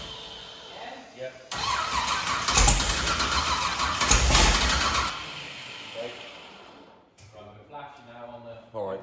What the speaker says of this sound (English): Give me fuel pump and cranker.